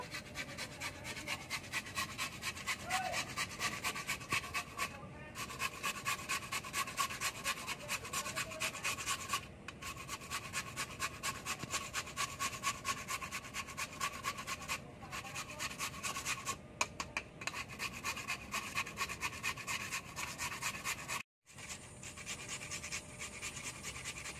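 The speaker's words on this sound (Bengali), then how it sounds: "প্রথমে আমি আলুটা গ্রেট করব।" A potato is rubbed against a kitchen grater in steady, rapid back-and-forth rasping strokes, close and fairly quiet, with a few brief pauses and no talking.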